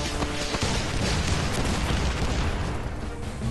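Cannons fire in the mech combat video game Ironcast, a dense run of booming blasts and bursts that fill the clip at steady loudness with no talk over them.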